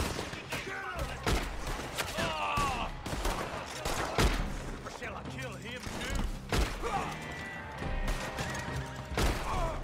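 Horses gallop with loud hoofbeats and repeated whinnies as a group of riders approaches in Red Dead Redemption 2, mixed with bursts of gunfire and voices talking.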